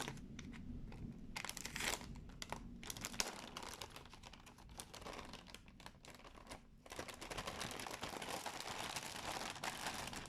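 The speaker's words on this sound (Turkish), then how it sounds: "Hemen şuradan bandı da çıkaralım. Güvenlik bandı." Security tape being peeled off the box of an ASUS ROG Strix 3060 graphics card, a continuous crackling, tearing rasp with brief gaps, close and moderately quiet.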